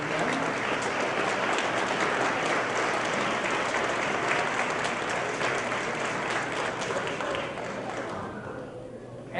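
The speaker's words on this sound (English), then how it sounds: "Let's give them an applause" Dense crowd applause for the Bethel High School Jazz Ensemble at an outdoor Bethel Park tree lighting event, loud and continuous before thinning out at the end.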